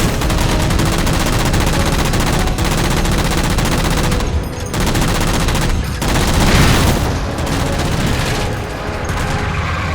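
Sustained, loud automatic gunfire rattles nearly nonstop while shooting down jammers in the Halo 4 video game, with rapid overlapping bursts and heavy booms.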